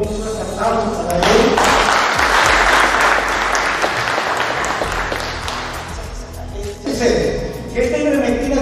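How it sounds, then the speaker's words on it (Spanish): An audience at the Chocó hospital's ivermectin pilot program launch applauds the hospital director, Doctor Antonio: a loud, dense round of clapping that swells and then fades, with a voice speaking briefly before and after it. "el doctor Antonio, nos un aplauso para él"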